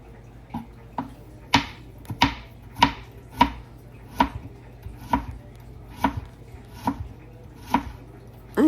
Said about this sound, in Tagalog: ginaya ko ng manliliit din yung labanos